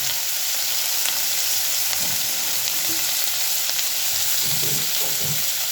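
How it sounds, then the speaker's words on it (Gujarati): Green chili, ginger and capsicum roast over a high flame in a pan for Jain paneer bhurji, giving a steady, close, loud sizzle and crackle with faint stirring scrapes and no talk. "હવે આપણે આ ત્રણેય વસ્તુને આપણે સરખી રીતે રોસ્ટ કરવાની છે."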